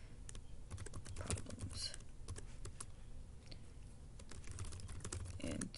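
Steady rapid typing on a computer keyboard, dense clicking keystrokes running throughout at close range, with a brief spoken word partway through.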